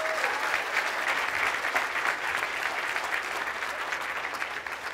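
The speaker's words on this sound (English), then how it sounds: "Let's do a round of applause for Ronan real quick" Steady, dense applause from a conference audience at a STEM keynote, a full crowd clapping continuously at even loudness for several seconds with no talk over it.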